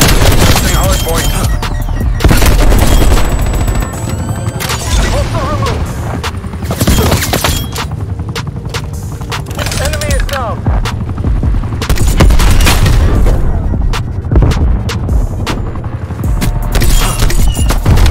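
Gunfire in the shooter Black Ops Cold War during a Hardpoint match, likely an AK-47: dense bursts of rapid shots and booms run through the whole stretch, loud and continuous, with game voices and talk mixed underneath.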